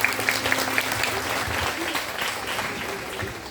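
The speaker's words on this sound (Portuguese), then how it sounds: "Palmas para os meninos." Church congregation applauding the boys after a sermon moment, sustained crowd clapping at steady loudness, with faint voices and some background tones underneath.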